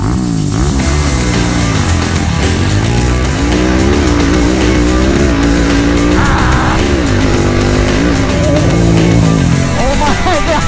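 A Yamaha Banshee quad and a 560cc Predator quad launch side by side in a drag race, their engines roaring loud and close as pitch climbs through the gears over about ten seconds of continuous noise, with some talk underneath.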